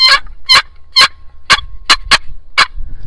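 Turkey call made of poplar wood with a walnut top, worked by hand to produce seven sharp, raspy yelps in an uneven rhythm, close and loud with no talking.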